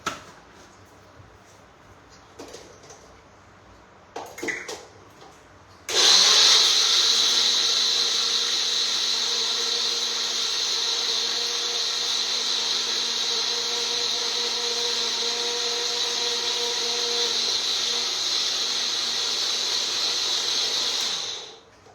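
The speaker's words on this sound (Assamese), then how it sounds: "এয়া মই চাউল আৰু কাজুখিনি ধুনীয়াকৈ পিচি ল'লোঁ।" A kitchen mixer grinder whirs loudly at a steady high pitch as it grinds soaked rice and cashews with water, starting abruptly after a few quiet handling clicks and running continuously for about fifteen seconds.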